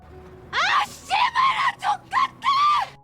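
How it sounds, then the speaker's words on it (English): A woman screams loudly in a series of sharp, wailing bursts that break into sobbing cries, close and alone with short gaps between outbursts. "screams loudly and starts crying"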